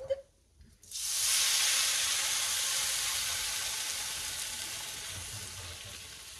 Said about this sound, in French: Là ensuite on va verser de l'eau froide.